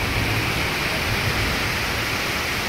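Heavy rain in a severe storm pours down in a dense, steady roar, loud and close, with no voices over it.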